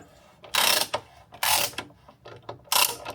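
A Sid Chrome socket ratchet wrench loosens the torque mount bolts on a Ford Focus MK2 in three loud, close bursts of rapid clicking. Short quiet gaps fall between the bursts.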